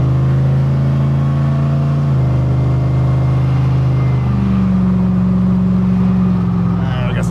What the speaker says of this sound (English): I'm probably gonna take off like a little quick because I think it's just gonna break the tires loose.